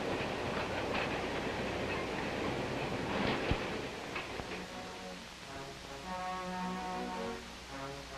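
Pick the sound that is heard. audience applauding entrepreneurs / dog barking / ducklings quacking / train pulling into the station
train pulling into the station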